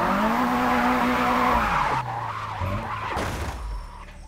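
A car drifts in the racing video game Japanese Drift Master, engine note rising then dropping as tires squeal and skid loudly, the screech breaking off into rougher scraping before fading.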